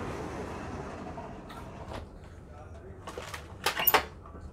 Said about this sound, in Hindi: बस यहाँ हम दरवाज़ा लगा देते हैं।